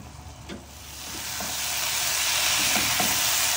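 Watermelon rind curry sautéing in a pan, a steady frying sizzle that builds and holds, with a few soft stirring scrapes, close by with no voices.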